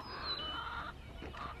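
Chickens on a pasture farm being moved onto a cow-grazed field, faint fowl calls with a drawn-out squawk and brief clucking sounds, fairly distant and quiet against outdoor background noise.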